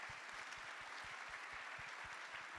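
Audience applause at an investment industry anniversary event in London, a steady dense wash of clapping from a full room that holds even throughout.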